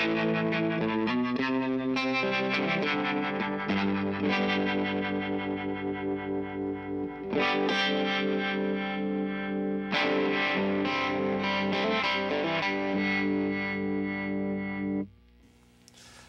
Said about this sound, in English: Gives you the rotating speaker sound.